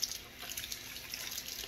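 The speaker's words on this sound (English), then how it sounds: "I'm going to rinse my mask in hot water" Hot tap water running into a sink while a cloth face mask is rinsed, a faint steady splashing patter with small drip-like spatters, short and quiet.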